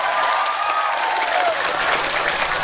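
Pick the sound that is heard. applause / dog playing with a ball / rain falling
applause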